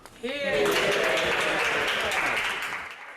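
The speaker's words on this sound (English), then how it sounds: "Applause from some Labour and SNP MPs." A burst of applause from MPs in the House of Commons swells quickly and carries on steadily before fading, with a voice briefly audible at the start.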